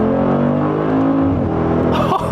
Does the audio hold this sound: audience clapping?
no